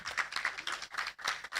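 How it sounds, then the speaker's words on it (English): Audience applause at a university international conference, a brief dense patter of many hands clapping, moderately quiet and steady. "a round of applause"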